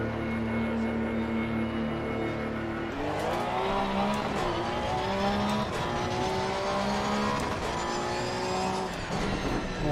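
A Porsche race car in Assetto Corsa Competizione holds a loud, steady engine note that rises through the gears, with tire noise beneath and no voices.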